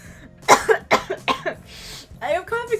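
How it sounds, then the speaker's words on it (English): A person coughs repeatedly in short, close bursts while trying to hold back laughter, with strained, breathy vocal sounds between coughs. "I am coughing so much now because I'm containing my laughter."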